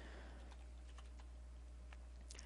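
Quiet computer keyboard typing, a handful of light, irregular key clicks over a steady low hum, entering dimensions for a quarry setup in a modded game.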